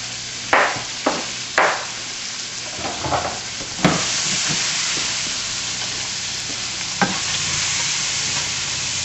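Onions, green peppers and fresh garlic hit a hot pan for Swiss steak: a few sharp clatters as the vegetables drop in and get stirred, then a steady, close sizzle that keeps going on its own.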